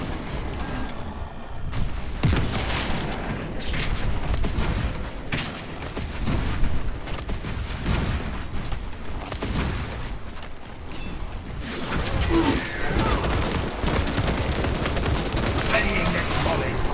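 Gunfire volleys in the Space Marine II video game sound as rapid bursts and booming shots over mechanical clanks and a battle din, dense and continuous, with voices talking underneath.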